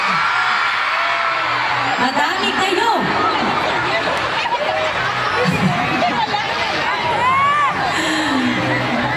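A large concert crowd at the Panaad sa Negros Festival in Bacolod City shouts, whoops and cheers loudly all at once, a dense roar of voices with a brief spoken line over it.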